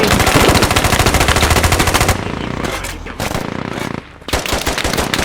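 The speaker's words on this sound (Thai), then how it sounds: "เอาแล้วยิงใส่ขาครับ" Automatic gunfire in the video game Squad, loud rapid machine-gun bursts rattling continuously, then breaking into shorter volleys and single shots with brief gaps.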